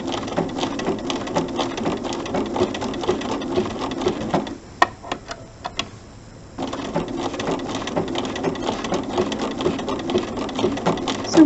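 Sewing machine stitching a double buttonhole stitch around an appliqué, running with a fast steady rattle, briefly stopping for a second or two with a few clicks, then resuming at the same pace.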